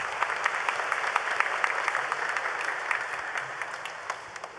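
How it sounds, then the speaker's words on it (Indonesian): A church congregation applauds steadily at a Sunday Mass, many hands clapping together in a dense, even patter that fills the room and then thins toward the end, with no voices over it. "Kita beri aplaus yang meriah untuk mereka."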